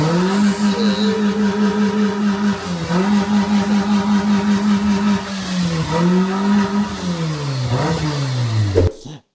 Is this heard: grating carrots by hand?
no